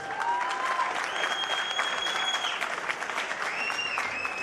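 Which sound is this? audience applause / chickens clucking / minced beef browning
audience applause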